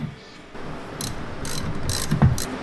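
Nut being tightened back down on a Stihl MS201T C-M chainsaw, several quick ratchet clicks close and quiet, in short bursts over a faint background.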